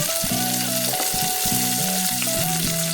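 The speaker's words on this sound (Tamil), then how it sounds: "இப்போ நம்ம எடுத்து வச்சிருக்கிற பூண்டையும் போட்டு ஒரு வதக்கு வதக்கிடலாம்" Garlic, curry leaves and fenugreek fry in hot oil for a bitter gourd thokku, a steady close sizzle with intermittent tonal scraping and stirring sounds throughout.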